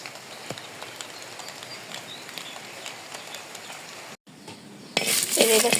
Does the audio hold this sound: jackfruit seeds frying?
yes